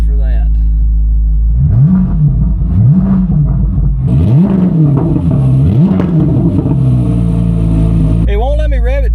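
A car engine revs repeatedly in rising and falling sweeps, each one capped at around 3,000 rpm by a limiter, loud and close over a deep idle, with a short whine near the end.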